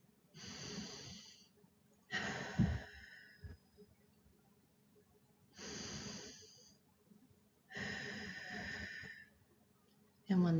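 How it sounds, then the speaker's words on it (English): Four slow, deep breaths, each a long, close airy inhale or exhale separated by short pauses, breathy and fairly loud, with a faint low tone between them. "Let's begin with 3 deep breaths."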